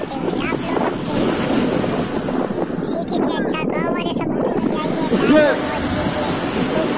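Sea waves roll and surge around people bathing in the ocean, a steady rushing wash with wind buffeting and voices talking and calling over it.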